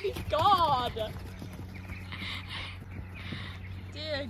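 Horses running around a field, with hoof thuds and movement under loud, excited human voices that dominate the sound throughout.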